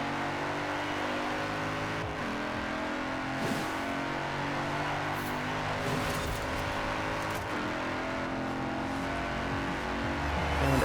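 A Mercedes-Benz AMG Hammer Coupe races online in Forza Horizon 4, its engine droning loud and steady throughout, with revs rising and falling slightly through a final corner and straight.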